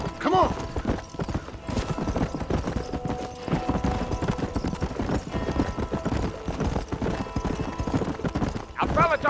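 Horse hooves clip-clopping at a steady trot in Red Dead Redemption, a close rhythmic beat running the whole way under spoken dialogue, with a brief whinny-like sound near the start and end.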